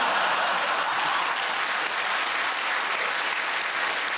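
Dense, loud studio audience applause for comedians Ed Gamble, Kerry and Rhys on a TV comedy panel show, a continuous wash of clapping with no break.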